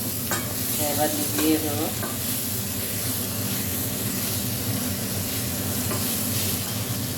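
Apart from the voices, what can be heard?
moringa leaves frying and being stirred in a pan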